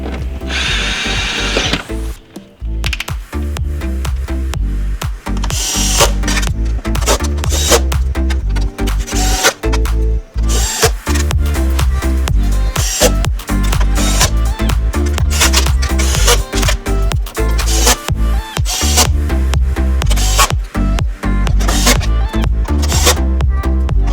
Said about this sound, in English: Now we're going to re-secure by just bolting down all of these with